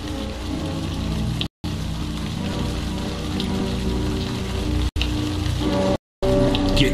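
Steady, dense rainfall in the video game Platoon (2002) hisses continuously, broken by a few abrupt silent cuts, with no voices.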